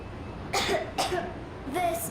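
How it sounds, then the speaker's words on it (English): A girl in the video game Metro Exodus coughs three times in short, close bursts, each separated by a brief pause, over a quiet background. "I have this cough."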